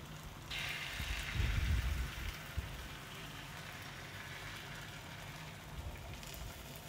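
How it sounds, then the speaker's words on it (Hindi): Egg frying in a pan next to shami kebabs for a burger, giving a steady close hiss and sizzle that swells briefly near the start and then holds at an even level. "यहाँ पर हम अपने अंडे को फ्राई होने देंगे ताकि हम इसे कबाब पर रख सकें"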